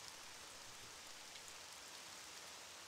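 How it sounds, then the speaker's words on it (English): Steady, loud rain pours in an RPG Maker horror game, a dense even hiss of drops on a surface with no breaks and no voices over its short length. "Loud rain sound effect."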